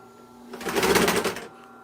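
A leather sewing machine driven by a motor and foot pedal runs in one short burst of quick mechanical clatter, about a second long, close and fairly loud, with a low motor hum underneath.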